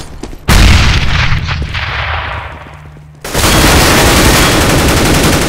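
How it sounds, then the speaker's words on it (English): A grenade blast in Counter-Strike: Global Offensive lands as a sudden loud boom that slowly decays, then dense, continuous gunfire erupts close by and carries on steadily to the end. "Throwing a grenade."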